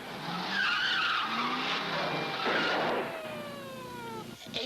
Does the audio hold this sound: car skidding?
yes